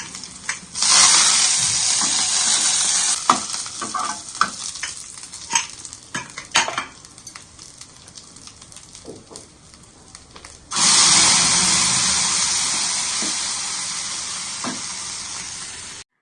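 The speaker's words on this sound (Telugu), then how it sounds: "2-3 ఎండుమిరపకాయలు, కాసంత కరివేపాకు కూడా వేసుకుని బాగా అయితే ఫ్రై చేసేసుకొని పప్పులోకి అయితే తాలింపు అయితే వేసేసుకుంటాను" Dried red chillies and curry leaves sizzling loudly in hot oil as a tempering for dal, a strong crackling fry that fades out in the middle, with stirring clinks, then bursts back up and slowly settles.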